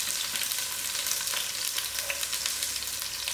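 Onions fry in a pan, a close, steady crackling sizzle with small pops and no voices.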